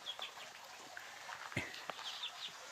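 A young jog-jog bird chick gives thin, high chirps in several short calls, faint and spread over a soft outdoor village background.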